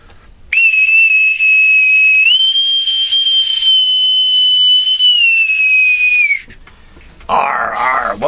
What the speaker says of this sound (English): With my authentic bosun's whistle.